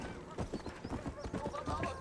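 Hooves clip-clop in a rhythmic run as a horse approaches in the video game Red Dead Redemption 2, moderately near, with a voice talking over the steady beat.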